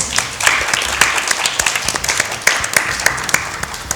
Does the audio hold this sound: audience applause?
yes